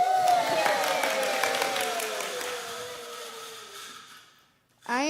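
Audience applause at a Temple Emanuel Shabbat service: clapping runs under voices and fades over about four seconds, then a brief pause before a voice starts again.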